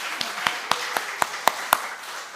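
Rhythmic clapping at a church worship service, seven evenly spaced claps at a steady beat, fairly close and distinct over a soft background murmur.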